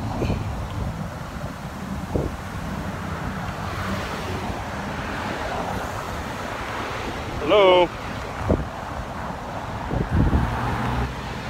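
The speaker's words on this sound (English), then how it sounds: "you can hear the wind" Steady wind blowing outdoors near a house at night, a continuous rushing roar with a few faint thumps and a brief sharp squeak partway through.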